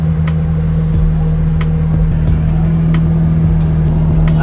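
A skid steer engine runs steadily and loud up close, a constant low droning hum with faint scattered clicks and rattles on top.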